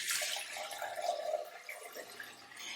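Homemade fermented raw fruit vinegar is poured off from its container in a soft, quiet trickle and splash that runs continuously, heard alone without talk.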